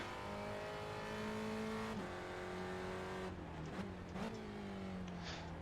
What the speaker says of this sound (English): Nice double downshift there. The blips.